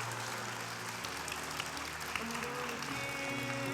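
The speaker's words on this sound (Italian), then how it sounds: "l'applauso." Theatre audience applauding at the final of a televised performing-arts contest, a steady dense wash of clapping heard from within the crowd, fairly soft and continuous throughout.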